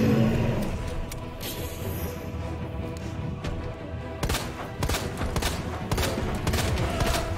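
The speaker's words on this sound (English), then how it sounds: "I'm shooting at his heart" Gunfire in the Resident Evil 2 Remake video game: loud bursts of rapid shots fired in quick clusters over a rumbling, echoing game background, with a heavier volley near the end.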